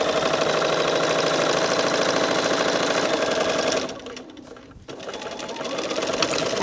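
Sewing machine stitching a crazy quilt strip to an ice cream cone shape, running steadily and loudly with a brief dip in speed partway, then resuming its continuous whirring drive.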